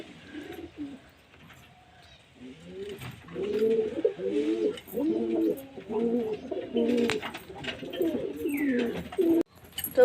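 Young pigeons coo repeatedly in soft, throaty bursts while being bathed, close by, with light rustling and a quiet stretch at the start.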